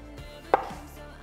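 A knife cuts through a broccoli floret on a cutting board, one sharp crisp chop standing out alone over a low kitchen background.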